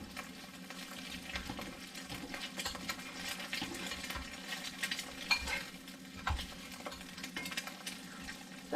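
An egg fries in a pan, a quiet steady sizzle with occasional soft scraping and clinks of a utensil, no talk over it.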